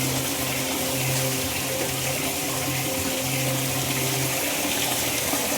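Water pours steadily from a spout at a stone well, a continuous close splashing rush with a faint low hum beneath, no talking.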